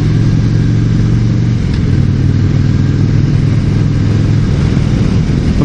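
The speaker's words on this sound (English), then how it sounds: "Weak ass sounding bike." A sportbike engine runs steadily and loudly close by, a low droning idle with a slight lift in pitch partway through, heard alone without talk.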